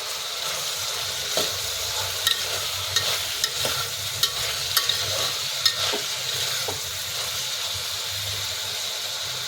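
Ridge gourd and tomato curry stirred in a hot pan, a steady close sizzle and hiss with a run of light spatula taps and scrapes against the metal, no voices.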